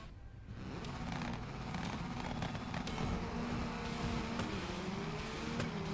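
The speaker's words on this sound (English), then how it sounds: "this sounds like your standard inline 6 engine" An inline-six rally car engine in the racing game Gravel drones steadily and loudly, holding a sustained rumble with a faint rising tone throughout.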